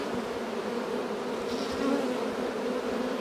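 An open honeybee colony hums in a dense, steady buzz at close range as a drone chews its way out of its capped cell, with many bees droning continuously and no talking.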